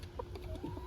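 Backyard hens cluck softly in short, close bursts, under a low background hum.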